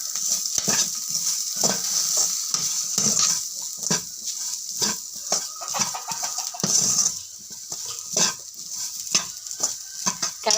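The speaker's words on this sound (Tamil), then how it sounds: "நல்லா கிளறி விடணும்" A spoon stirs spiced potato rice with turmeric and garam masala in a pan, giving repeated scraping and clattering strokes over a steady sizzle, close and fairly loud with no talking.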